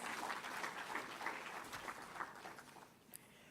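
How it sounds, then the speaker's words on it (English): Audience applause at a government budget presentation, many hands clapping fairly quietly and steadily, then tapering off and thinning out toward the end, with a few scattered claps. "Please, a round of applause for yourselves."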